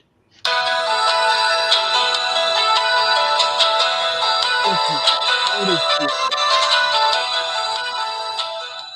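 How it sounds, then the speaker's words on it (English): A phone ringtone plays loudly and steadily as an incoming call comes through, a bright repeating electronic melody running for several seconds with faint background voices underneath. "So everybody whip out a ringtone that they're going to use."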